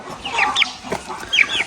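A hen clucks and calls to her chicks in a few short, bright bursts, with two clear pairs of calls separated by quieter clucking, close and fairly loud.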